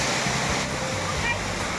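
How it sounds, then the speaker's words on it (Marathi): A monsoon waterfall at Lalwadi roars in a steady, full rush of falling water close by, constant and unbroken with no distinct pauses. "धबधबा बघू शकता, लय भारी आहे"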